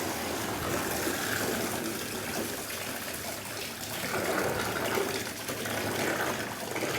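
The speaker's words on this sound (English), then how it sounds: "Drain as much water out of it." Water draining out of a soaked old-style canvas swag, a soft continuous gushing and trickling wash, fairly faint and steady with slight surges.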